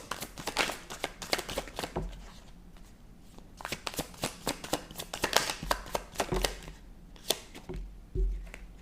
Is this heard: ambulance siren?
no